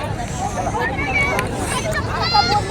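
A big crowd gathered for a community meal at a Bhim Jayanti celebration chatters in a continuous, loud hubbub of overlapping voices, with nearby speech rising above the steady murmur.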